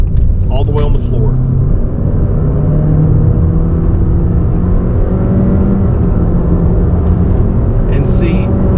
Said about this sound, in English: let's hop in and take it for a ride so you can see what I'm talking about. And here we go, all the way on the floor.